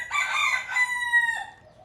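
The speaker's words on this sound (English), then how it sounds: "The roosters are noisy these days." Roosters crowing nearby on a farm where chicks run about, one long drawn-out crow with stacked harmonics that fades out after about a second and a half, no voices.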